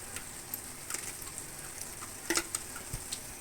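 Spices and chili fry in hot oil with salt for a shrimp and coconut-paste dish, giving a steady close sizzle with occasional pops and stirring scrapes.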